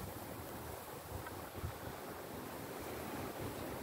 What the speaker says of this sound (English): waiting for the wind to pick up again.